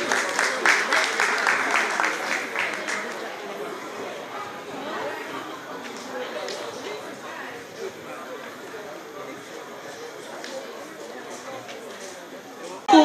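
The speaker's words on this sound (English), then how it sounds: "give them a round of applause as they come on in" Applause from a crowd, loudest at the start and tapering to steady background clapping with chatter mixed in.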